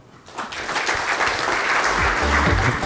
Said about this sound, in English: Louder applause, folks.